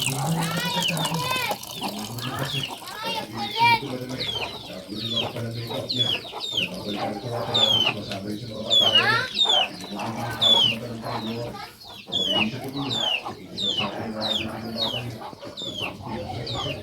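Chickens cluck repeatedly in a busy, overlapping flock, with sharper rooster-like calls and people talking in the background.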